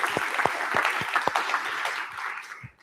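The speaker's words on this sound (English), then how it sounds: "one more round of applause" A Gauntlet AI demo day audience gives a short round of applause, dense clapping at steady loudness that fades out at the end.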